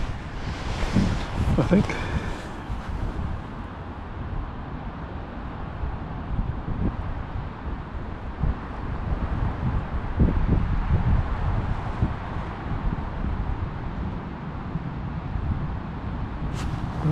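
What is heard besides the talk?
wind blowing outdoors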